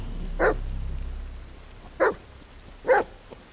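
Three sharp dog barks from an agitated dog in The Medium, spaced irregularly over a low ambient hum, fairly close and distinct.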